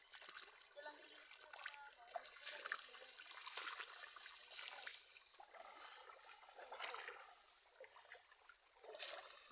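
Water runs strongly through a narrow stream, a faint, continuous rush and splash with trickling and fluctuating surges.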